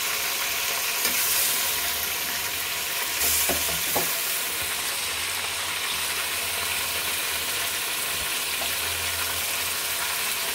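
Chicken pieces frying in hot oil with onions in a pot for biryani, a steady close sizzle with a few clinks of stirring, no talking.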